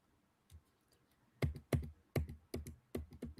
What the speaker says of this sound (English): And then I'm just typing back